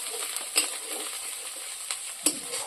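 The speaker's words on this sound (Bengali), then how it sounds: "আদা কিন্তু ভালো করে ভেজে নেব" Ginger paste frying with onions in a pan gives a quiet, steady sizzle, broken by a few soft clicks of a spoon stirring against the metal.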